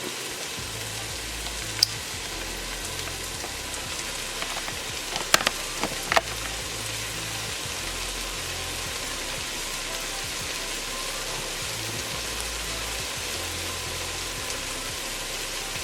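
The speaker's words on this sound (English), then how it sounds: "So that's how it's frying." Steady, dense sizzling of fish frying in a hot pan, a continuous crackling hiss with a few sharper pops, no voices.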